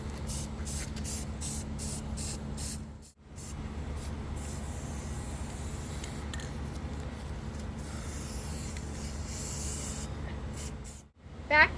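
Aerosol spray paint hisses in long continuous bursts as black is misted over red on a tiki torch skull, with a few short spurts before one sustained spray and brief pauses between.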